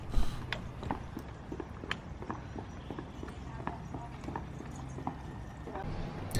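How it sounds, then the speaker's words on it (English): A horse and carriage clip-clops along a town-centre road lined with cafes and shops, steady hoof strikes ringing out at close to moderate distance over light street ambience, with faint talk. "we did not expect to see this horse and carriage, you know, strolling down the road"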